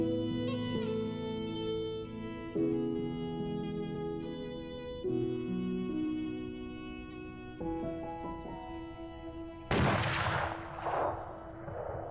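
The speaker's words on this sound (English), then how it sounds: "Good shot, Mr. Barnes" A single loud rifle gunshot in an action movie scene bursts out sharply near the end, following a stretch of sustained musical score, with a short decaying tail.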